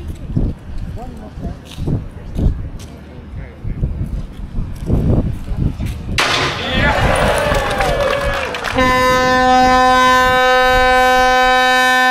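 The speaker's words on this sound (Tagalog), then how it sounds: "kuano na yun ni Tano ang busina sa barko" Ship's horn sounding at a Dutch-style ship christening in Delfzijl, Netherlands, a loud sustained multi-tone blast that starts partway through and holds steady, following crowd noise and talking nearby.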